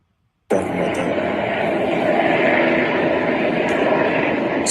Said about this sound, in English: It's helicopters flying by us right now.